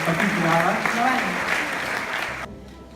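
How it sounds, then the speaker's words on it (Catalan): An audience at a climate-change event applauds a theatre group, producing a full, continuous round of clapping with a voice talking over it before the sound cuts off abruptly. "aplaudiment pel grup de teatre"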